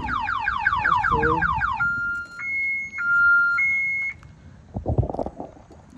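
A loud car alarm on a Z28 with an LS engine swap cycles through rapid warbling chirps, then steady alternating tones, before cutting out; a few thuds follow.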